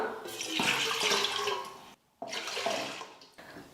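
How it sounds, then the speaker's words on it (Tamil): Water gushes into a heavy-bottomed pot for a rice flour murukku vathal batter, a strong steady pour broken by one short pause before a second pour, close and with no talking. "இப்போ இதில் தண்ணி சேர்த்துக்கலாம்"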